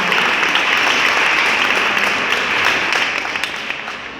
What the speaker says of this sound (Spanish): la cual también la recibiremos con un aplauso